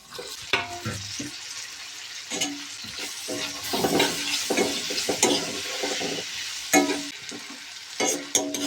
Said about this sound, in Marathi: हळद टाकूया, त्यामध्ये टाकूया लसूण अद्रकची पेस्ट आणि यात टाकूया टमाटर